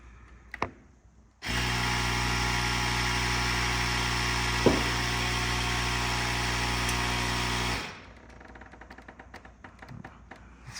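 A steady, loud electric air pump drones continuously for about six seconds while inflating a basketball wedged behind a car body panel to push out a dent, then cuts off, leaving faint handling noises.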